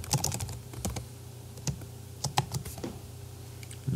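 Computer keyboard typing in short bursts of crisp key clicks, a few quick strokes, pauses, then more taps, close and clear against a quiet room with a faint steady electrical hum.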